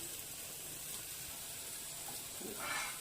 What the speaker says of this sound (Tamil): லைட்டாக சுற்றி எண்ணெய் விட்டுருங்க